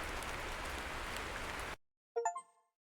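Game rain in Heavy Cargo The Truck Simulator hisses as a steady, dense wash for nearly two seconds, then cuts off abruptly, leaving a short ringing chime-like tone alone afterward.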